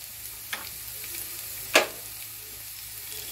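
Onions sizzle softly in hot oil in a pan for a butter paneer masala, with a constant frying hiss and a couple of brief stirring scrapes nearby.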